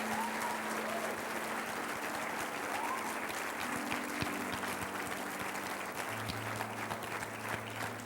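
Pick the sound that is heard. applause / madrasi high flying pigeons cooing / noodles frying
applause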